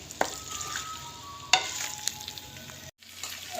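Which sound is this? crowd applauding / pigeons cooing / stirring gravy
stirring gravy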